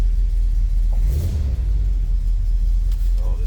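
A cold 1959 Chevrolet Bel Air two-door post engine runs at a steady, loud, low idle close by, with a brief rev swell partway through and no talk over it.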